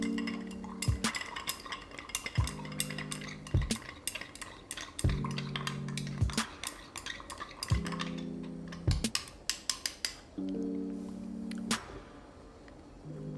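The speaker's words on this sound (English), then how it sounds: "We're gonna stir it." A spoon stirs espresso over ice in a glass, making a run of bright, close clinks and rattles against the glass and ice, with ringing bursts every second or so and a quieter stretch at the end.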